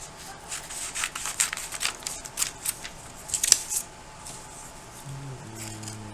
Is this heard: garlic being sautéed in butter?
no